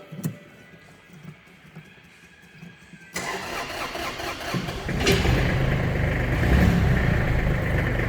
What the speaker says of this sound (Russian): Трактор, как видите, запускается.